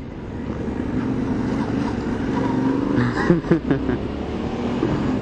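A Yamaha Ténéré 700 motorcycle pulls away with a steady engine drone that swells slightly midway, wrapped in rushing wind noise on the microphone.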